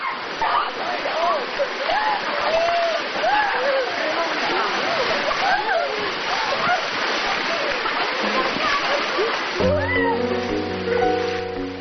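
Water pours down heavily like a shower on rafters during a river rafting trip, a loud continuous rushing splash close by, with excited voices talking and shouting over it and music coming in near the end.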